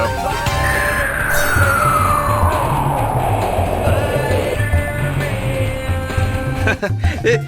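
Loud, energetic intro theme music from the Roblox game Block Tales plays continuously, with a long swooping tone that slides downward over a steady pulsing low beat.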